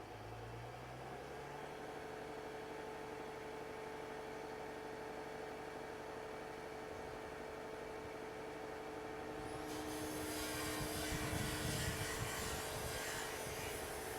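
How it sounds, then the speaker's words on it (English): A Mercedes ML engine idles steadily with a low, even rumble that carries throughout, and a broader hiss or rush joins in over the last few seconds. "Engine at idle."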